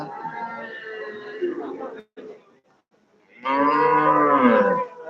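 Cattle at a livestock market in Dabwali where cows and buffaloes are traded let out two long, loud, close moos separated by a short quiet gap.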